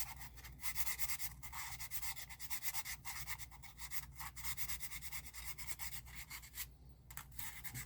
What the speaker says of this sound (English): And then we roll the sandpaper up. We're going to do those edges.